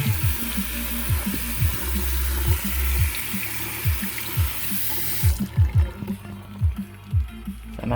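Water pours over an Anker Soundcore Motion+ Bluetooth speaker in a steady splashing stream that cuts off partway through, while the speaker's music keeps pulsing with a thumping beat.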